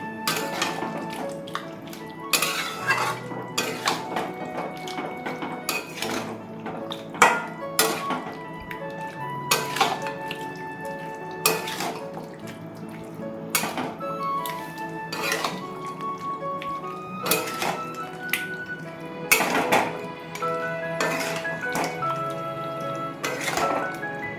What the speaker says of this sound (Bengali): মিডিয়াম ফ্লেমে রেখে ভালো করে নাড়বো, ভালো করে কষবো।